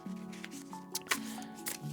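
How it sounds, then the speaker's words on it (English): A deck of tarot cards being shuffled close by in short riffling bursts, with a sustained tonal hum of background music running underneath. "as I'm shuffling. I just want to make sure I shuffle this deckly nice"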